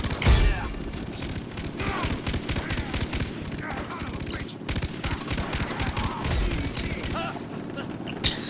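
Rapid gunfire in the Far Cry 3 video game, dense bursts of automatic shots firing continuously and loudly throughout, with a voice talking over it.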